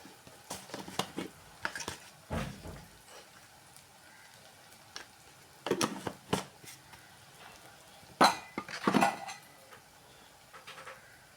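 Chili powder and turmeric being stirred in a pan in a small home kitchen, with scattered sharp utensil clinks and scrapes against the metal in irregular bursts, some louder, over a faint background hiss.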